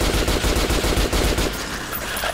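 Heavy weapon in the video game Metro: Last Light firing a loud rapid automatic burst, dense rhythmic shots close up that stop after about a second and a half, leaving some game ambience.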